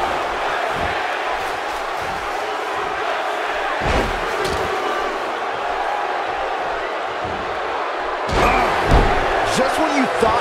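A chokeslam lands in WWE 2K18 wrestling gameplay, a heavy low thud over a constant roaring arena crowd, followed by a second loud impact and swell of crowd noise near the end.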